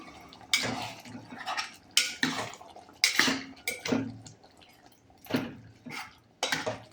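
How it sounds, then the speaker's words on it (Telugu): Chicken curry being stirred in a pot with a metal spoon: a run of distinct clanks and scrapes against the pot, irregular but frequent, close up, with some wet liquid sloshing and no talking. "ఇది మంచిగా కలుపుకుందాము"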